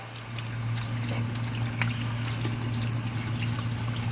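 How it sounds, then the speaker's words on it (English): Running water pours steadily while lobster tails are rinsed, a soft continuous splashing over a low steady hum. "We're going to give it a rinse."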